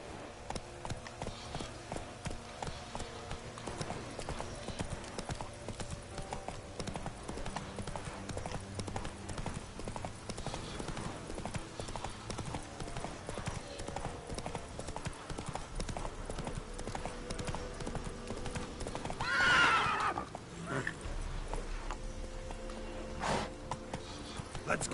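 Horse hooves clip-clop steadily at a gallop in the Witcher 3 video game, with a brief neigh partway through, loud and close over continuous game ambience.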